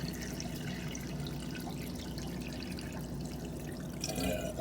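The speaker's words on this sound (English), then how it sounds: "And then you'll start to get the sucking sound off the top of the DURSO." Water drains through a DURSO standpipe in a 150-gallon bedroom fish tank, producing a soft continuous gurgle and trickle with a brief sucking slurp near the end, heard alone and close.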